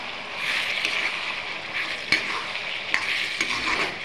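Broiler chicken curry frying in a pan is stirred, giving a steady scraping sizzle with a few sharper clinks of the spoon against the pan.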